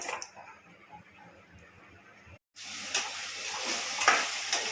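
Gongura curry is stirred in a pan: soft scraping and clinking under a low kitchen background, then a sudden cut to louder, steady sizzling with stirring scrapes, close up, with no talking.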